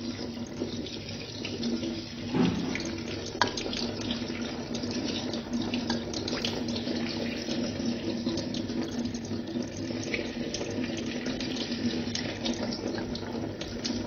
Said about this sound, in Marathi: थंड पाणी ओतून घ्यायचं आहे.